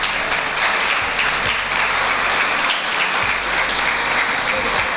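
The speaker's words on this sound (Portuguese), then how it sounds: "Vamos aplaudir a palavra do Senhor." A church congregation applauds at a New Year service, dense steady clapping filling the room evenly from start to finish, loud and sustained with no voices over it.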